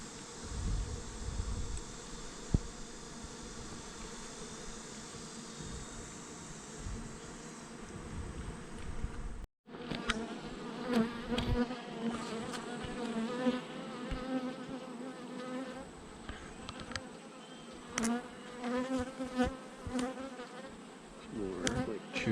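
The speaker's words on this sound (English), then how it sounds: "Might have these bees wanting to take off soon." A dense, steady hum of many honeybees buzzing close by around an open hive during an inspection, continuous throughout, with a brief break midway before the swarm drone resumes.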